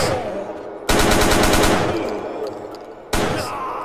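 Automatic shotgun firing in a video game, two loud bursts of rapid shots, each trailing off with echo before the next volley starts.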